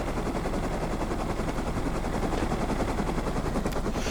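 Steady, dense rotor chop and engine roar of a helicopter flying in the video game Rust, loud and close throughout with no pauses or talk.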